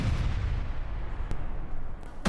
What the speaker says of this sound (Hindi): विस्फोटकों से भरे मिलिट्री व्हीकल में धमाका हुआ है